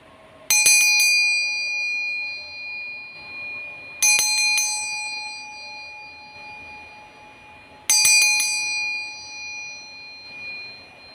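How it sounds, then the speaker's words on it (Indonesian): A bell rings three times at even intervals about four seconds apart, each strike bright and clear with a long shimmering decay, heard alone in a quiet room. "kita akan memulai dengan lonceng berbunyi"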